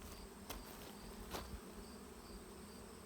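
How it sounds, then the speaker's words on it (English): Honey bee buzzing close to a beekeeper's face during hive mite treatment, a faint steady insect hum with a couple of brief louder passes, no talking. "I just had a bee in my nose, not trying to sting me, just kind of looking at me"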